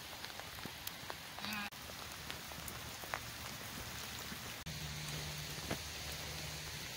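At Hatley Castle in Victoria, BC, heavy rain keeps up a dense, even patter on surfaces nearby, with occasional distinct drips and a faint low hum entering partway through.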